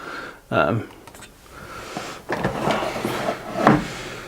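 Wooden tool box drawers sliding open, a few scraping wooden rumbles and knocks spread across the moment, close by, with speech around them.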